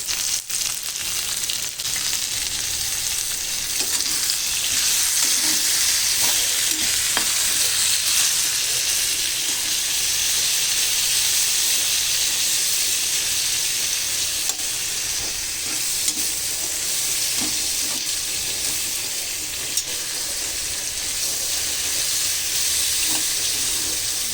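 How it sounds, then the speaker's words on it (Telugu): Onions cooking with a pinch of salt in a pan give a steady, close sizzle and hiss, with faint stirring scrapes running through the whole stretch and no talk. "కొంచెం ఉల్లిపాయలు తొందరగా వేగాలి అంటే కొంచెం సాల్ట్ వేసుకోవాలండి"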